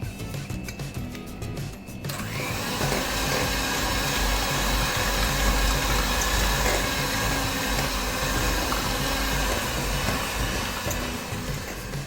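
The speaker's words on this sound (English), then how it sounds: "I'm going to give this a quick mix" An electric mixer gives cookie dough with a little salt a quick mix, starting with a short soft rattle before the motor kicks in and whirs steadily and loudly for about ten seconds without talk.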